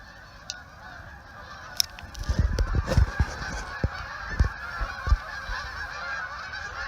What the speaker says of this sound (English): I can hear the geese.